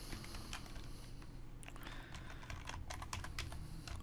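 Computer keyboard typing of CSS code in a text editor, a steady run of quick close key taps with denser bursts in the second half, heard alone without talk.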